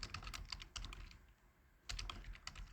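Rapid keystrokes on a computer keyboard, close and clear, in two bursts of typing separated by a short pause near the middle.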